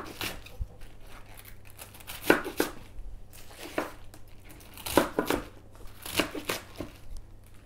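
Vegetables being cut with a knife on a board for kimchi, a run of irregular crisp chops and slices, close and clear, with short pauses between bursts.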